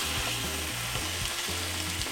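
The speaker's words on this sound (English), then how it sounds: "Hear that sizzle?" Chicken breasts sizzle loudly in a hot pan, a dense crackling hiss with faint low clunks of the pan underneath, close and continuous.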